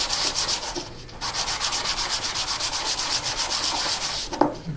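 Steady rhythmic back-and-forth rasp of 240 grit sandpaper worked by hand over a custom electric guitar body, close and continuous with a brief break near the start.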